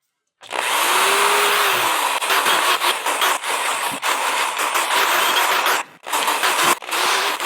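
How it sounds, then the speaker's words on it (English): Power drill boring a series of small holes for a homemade low-pressure aeroponic system, a steady loud whine running for several seconds with brief pauses between holes. "now I'm going to drill some smaller holes"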